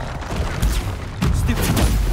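A Depulso spell cast in combat in Hogwarts Legacy, with sharp blasts and booming impacts landing in bursts over a noisy, crackling battle mix.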